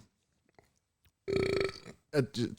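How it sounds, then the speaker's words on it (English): A long, low, voiced burp rumbles into a podcast microphone for about a second, followed by a couple of short vocal sounds. "Burps are welcome in the microphone."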